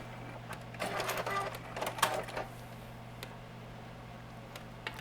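Sewing machine running a short stitch close to the edge to hold a hanger on a quilted tea bag pocket organizer, a brief soft whirring burst that trails off into quiet, faint taps.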